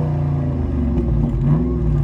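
A 2019 Dodge Scat Pack V8 fitted with a burble tune idles and revs, its deep, steady exhaust rumble loud and close throughout.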